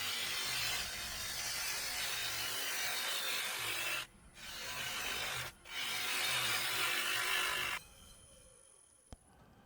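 A crotch birch bowl spins on a wood lathe as a gouge cuts it, giving a continuous broadband shearing hiss broken by two brief pauses before the cut eases off and the machine winds down.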